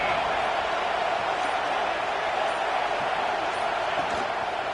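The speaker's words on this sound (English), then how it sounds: "Listen to the crowd energy here in the early going." A stadium crowd in a football video game sends up a dense, constant roar, an even wash of cheering with no breaks across nearly five seconds.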